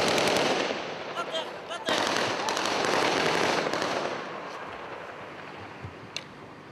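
Gunfire during a confrontation in Nablus, heard as a loud, dense crackle of rapid shots that stops abruptly and resumes, then fades into a lower rumble with a single sharp report near the end.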